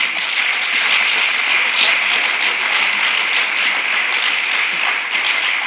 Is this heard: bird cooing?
no